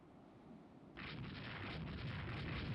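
Missiles firing and exploding during a naval battle in the warship strategy game Rule the Waves 3, a quiet low rumble that swells into a sustained, louder roaring wash of blasts, distant and continuous.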